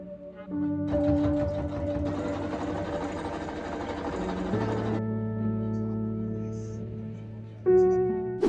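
Sewing machine stitching bodice pieces for a Labyrinth-inspired gown, a close, steady mechanical whirring that runs in bursts with brief pauses, with faint music in the background.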